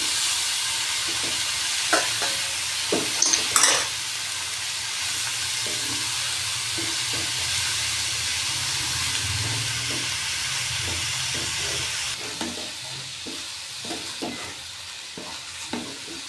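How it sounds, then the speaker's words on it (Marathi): Dill (shepu) bhaji with spices and dal being stirred in a pan over steady, close sizzling, with a scatter of spatula scrapes and taps throughout and a few sharper clinks. "हे सर्व चांगलं हलवून घ्यायचे आहे."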